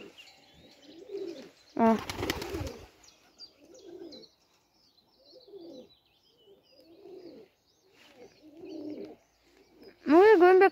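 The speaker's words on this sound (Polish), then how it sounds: "gołębie jakoś dziwnie przerażone są" Soft, low pigeon coos repeat in short bursts, with a loud flutter of wings and a short spoken word in Polish among them.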